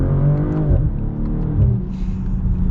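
2022 BMW M440i xDrive engine accelerating in second gear in manual mode, a loud rising cabin drone that dips briefly and climbs again, heard from inside the car with no talk.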